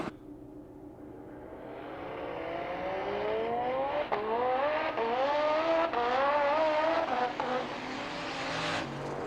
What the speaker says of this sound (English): Damn, his car is loud.